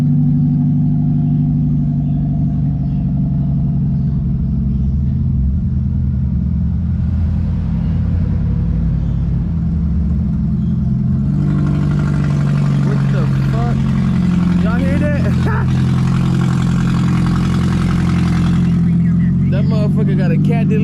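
A car with its catalytic converter and muffler deleted rumbles with a deep, continuous engine drone, growing louder and rougher midway, while people talk over it.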